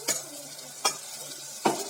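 Tomatoes, shallots and ginger-garlic paste sauté in a pan for mutton kurma, a soft sizzle broken by three sharp scraping stirs of a spoon at roughly even intervals, close up.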